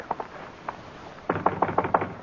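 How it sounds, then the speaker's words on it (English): Knocks on an office door in an old-time radio drama, a few faint taps first, then a firm series of five or six knuckle raps close by with no voices over them. "We'll knock."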